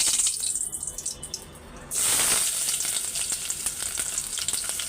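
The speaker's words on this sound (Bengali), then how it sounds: "তেল গরম হয়ে গেছে, তো দুইটা তেজপাতা ছেড়ে দিচ্ছি আগে" Two bay leaves dropped into hot oil in a home kitchen burst into a loud, steady sizzle after a quieter stretch of faint clatter, the crackling hiss continuing unbroken to the end.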